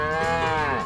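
A cartoonish cow moo from the trivia game You Don't Know Jack, one loud sustained lowing call with rich harmonics, heard alone and close for under a second.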